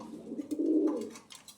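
A pigeon gives a single low, soft, rolling coo up close, lasting about a second, with faint background noise around it.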